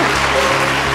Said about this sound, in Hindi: आप सब इनका जोरदार तालियों से स्वागत कीजिए